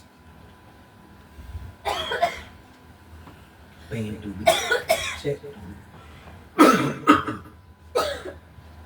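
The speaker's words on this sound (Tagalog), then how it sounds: "Choir ng ubo." Several bursts of coughing from more than one person, fairly close, with talking mixed in between the coughs, during a church worship service.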